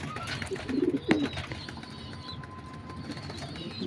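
Pigeons in a home loft let out a brief, low coo at moderate distance, with a soft flutter and faint background murmur afterward.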